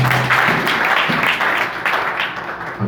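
A church congregation bursts into applause, a dense, steady wash of many hands clapping together that fills the whole moment at close range.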